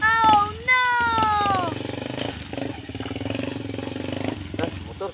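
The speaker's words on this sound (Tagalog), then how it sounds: "Motor kini." A motorcycle engine runs and revs close by, a steady rumbling drone under loud, excited voices and shouting throughout.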